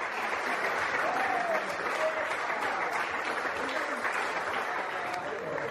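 A crowd applauds at a mountain bike race podium ceremony at Isola 2000 during the junior riders' photo, sustained clapping filling the air while a voice carries faintly over it.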